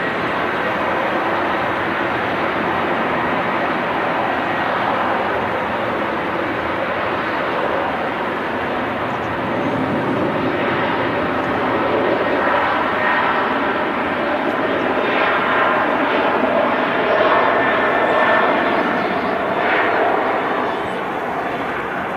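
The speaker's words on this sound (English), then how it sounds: "What a sound from the 330." A Turkish Airlines Airbus A330 on its takeoff roll at Manchester Airport, a loud sustained jet engine roar with broad rumble, steady and powerful throughout, heard from outdoors with no talking over it.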